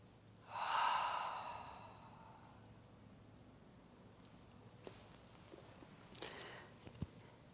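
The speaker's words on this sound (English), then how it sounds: "Take a full breath in with me here. Open mouth, exhale." A long, audible open-mouth exhale during a prenatal yoga relaxation, one soft breathy sigh that fades out, then quiet with a few small rustles and taps.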